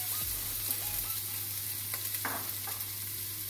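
Onions frying alongside beef mince in a pan sizzle steadily at moderate loudness, with a few scrapes and light knocks of stirring mixed in.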